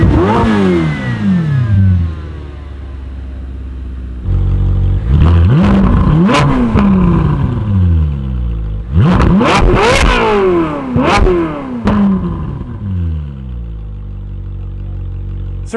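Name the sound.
Ferrari F8 Spider turbo V8 engine with valves closed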